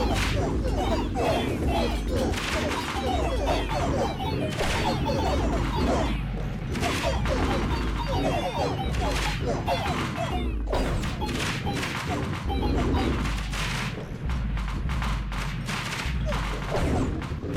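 Demons smashing through walls in a roguelike kingdom-builder game: a dense, continuous barrage of loud crashes, thuds and whacks in rapid irregular succession, chaotic and close, with no break throughout.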